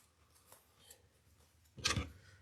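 Scissors snip ribbon while a spring floral swag is assembled on a rectangle board: one crisp, close cut after quiet handling rustles.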